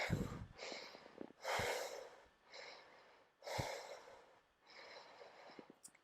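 Strong, audible breaths during a HIIT yoga flow, close and clear, with long inhales and exhales alternating in a slow steady rhythm between short pauses.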